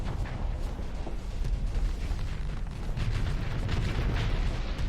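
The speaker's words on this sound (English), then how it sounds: "But we can try and get the Hellbore cannon shots in here." Repeated heavy Hellbore cannon impacts hammer a ship's hull in the space game Starsector, a dense, continuous barrage of booming blasts and rumbling bursts with no talking.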